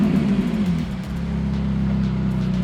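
A car engine on a race track at Killarney drones close by, slowing its rev briefly before settling into a steady low rumble, with no talk over it.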